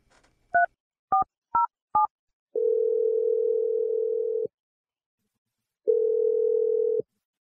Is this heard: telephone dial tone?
yes